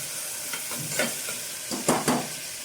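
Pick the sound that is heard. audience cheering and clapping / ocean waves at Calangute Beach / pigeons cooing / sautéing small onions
sautéing small onions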